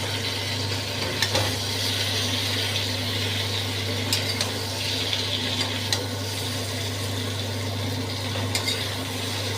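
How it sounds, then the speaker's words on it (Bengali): Poppy seeds stirred into mixed vegetables with bean pods in an oily pan, a continuous soft frying hiss with occasional light spoon scrapes and taps, steady and close over a constant low hum. "6 চামচ পোস্ত দানা দিয়ে এটা দিয়ে এবার নাড়বো"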